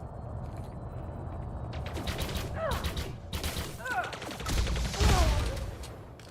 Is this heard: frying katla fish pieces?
no